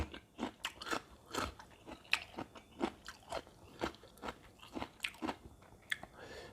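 Close, crisp crunching and chewing of crunchy food from a spicy salmon salad meal with egg-white noodles, about a dozen sharp bites in a steady rhythm, no talking.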